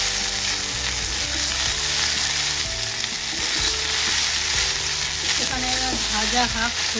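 Pasta stir-fried in a pan with masala and half-fried vegetables, loud steady sizzling and stirring up close, with background music playing underneath.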